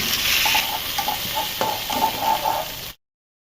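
Pointed gourd pieces with salt fry in hot oil, a steady loud sizzle with light stirring taps throughout, then cutting off abruptly.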